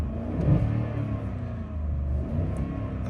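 A Ford F-150 pickup truck engine revs steadily with a low, even drone that swells slightly, heard alone and close without talk.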